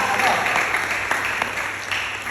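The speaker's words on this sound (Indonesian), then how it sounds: "Tepuk tangan buat Tuhan Yesus." Church congregation clapping during a sermon, a steady moderate patter of many hands sustained throughout with voices mixed in.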